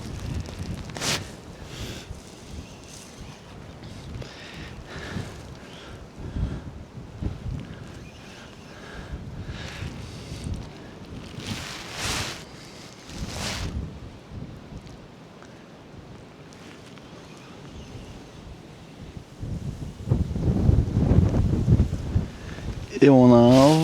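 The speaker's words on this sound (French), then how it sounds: "Et on a un vent de merde." Heavy wind buffets the microphone in gusty rumbles, with faint voices underneath and a louder blast near the end.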